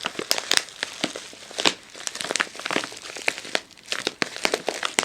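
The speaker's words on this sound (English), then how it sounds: "you're just crinkling the bag" A plastic bag is crinkled and crushed in rapid, irregular bursts, close and crisp, with sharp crackles repeating throughout and no voices.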